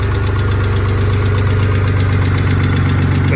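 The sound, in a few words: car engine ticking from worn lash adjusters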